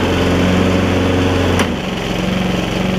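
A 1996 Toro Super Recycler lawn mower's Briggs & Stratton engine runs at a steady, loud hum, then its tone drops and settles into a lower idle partway through.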